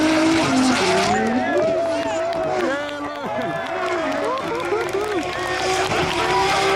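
Drift car battle with the engine dropping off then roaring back on throttle, wailing revs and tire squeal throughout, loud and continuous with a voice talking over it.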